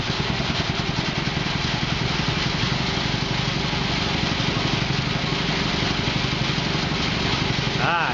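A truck engine runs steadily after starting, a continuous rough idle throughout with a brief rising whine near the end.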